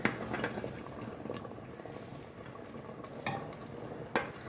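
Dahl gosht simmering with tamarind juice at a boil while being stirred, with a steady bubbling, sizzling bed and a few louder scrapes and clinks from the stirring, all close up with no talk.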